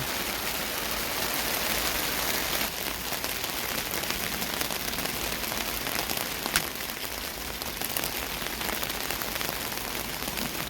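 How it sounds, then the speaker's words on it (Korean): Hail falls on the awning of an off-road camping caravan, making a dense, steady, hissing patter that stays loud and even throughout, with no voices. "아, 우박이에요, 우박."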